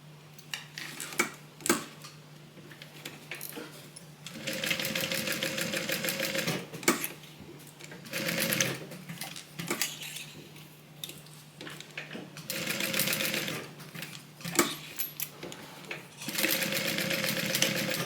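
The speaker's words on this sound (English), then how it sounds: "And then just sew a box to keep that in place." A Juki sewing machine stitches a small box across a double-folded edge on a fabric Bible cover, running in several sustained bursts separated by short pauses and clicks.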